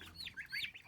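Chickens and small birds settle to roost in a courtyard at night, giving faint, soft rapid chirps and peeps in a quick irregular run that sound fairly distant.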